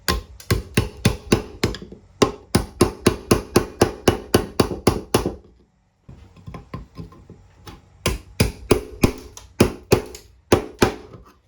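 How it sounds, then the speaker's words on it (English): Hammer driving a junk chisel into a 1992 Honda CR250 engine, sharp metallic strikes close up in fast bursts of repeated blows, with a short pause midway. "I just got this junk chisel and a hammer, and see what we see."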